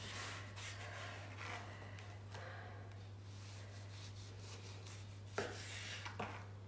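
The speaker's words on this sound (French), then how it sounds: "On va couper la première tranche." A knife slicing through a rhubarb cake baked in a Thermomix: soft, quiet scraping and crumbly rubbing strokes close up, with a couple of light taps near the end, no talking.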